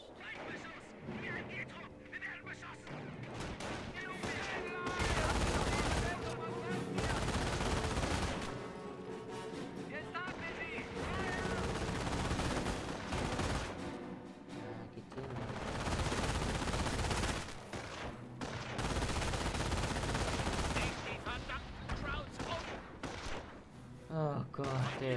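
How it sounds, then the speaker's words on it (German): Dense bursts of rifle and machine-gun fire erupt repeatedly in a Normandy invasion battle game, loud and sustained with brief lulls between volleys, while voices shout over the combat. "Wir werden beschossen!"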